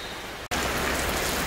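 Steady rain falls at an outdoor plant nursery, a dense, close hiss of drops on surfaces that cuts out briefly and returns at full strength, with no voices.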